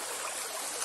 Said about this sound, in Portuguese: A água descendo aí.